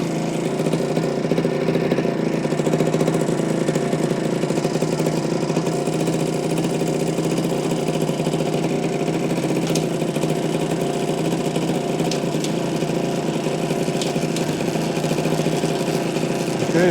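A 1973 Suzuki TC125 motorcycle engine runs steadily in fourth gear, high range, with a loud, even drone held close and constant throughout, with no talking.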